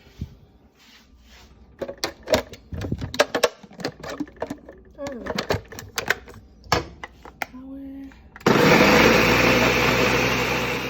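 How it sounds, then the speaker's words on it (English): Red chile salsa being blended, preceded by clattering kitchen knocks and handling sounds, then a loud, steady blender whir starting abruptly and running to the end. "I'm gonna go ahead and put that back in the blender."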